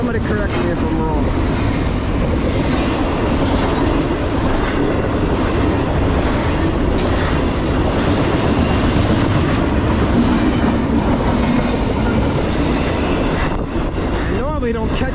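A CSX westbound intermodal freight train, carrying Tropicana empties among its cars, rolls past close by with a loud, continuous rumble and clatter of wheels on rail that holds steady throughout.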